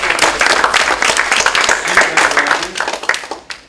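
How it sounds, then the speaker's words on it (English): Students applaud at the end of a talk, a loud burst of many hands clapping in rapid, dense patter that gradually thins and fades out toward the end. "cordially applaud"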